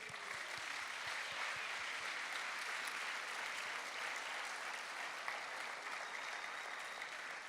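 A church congregation at a Saturday service claps for several seconds, a steady, even wash of applause heard from a distance with no talking.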